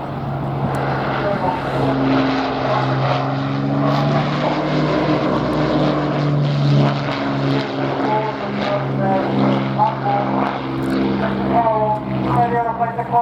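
Spitfire P8474, a propeller aircraft flying a display at the Royal International Air Tattoo, gives a loud, continuous piston-engine drone that shifts in pitch as it passes, with a commentator talking over it throughout.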